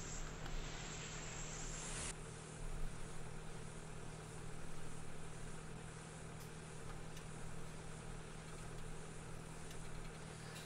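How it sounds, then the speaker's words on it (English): Krone Ultima CF 155 XC bale wrapper running behind a labouring tractor in Farming Simulator 17, a steady low engine drone with a continuous hum and no break, moderately quiet and even throughout. "So the wrapper is going now at the moment, and I feel as if that is really dragging the tractor down."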